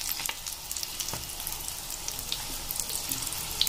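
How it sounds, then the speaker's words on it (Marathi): Eggs for an egg curry fry in a hot pan with a steady, close crackling sizzle and bright spattering pops scattered throughout. "दोन्ही बाजूने आपल्याला ते फ्राय करून घ्यायचे आहेत."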